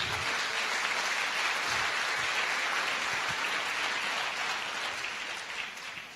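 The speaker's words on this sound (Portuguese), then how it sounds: "Aplauda o Senhor pela vida deles." Church congregation applauding together in a steady, dense wash of clapping that fills the room, holding level for several seconds before easing slightly at the end.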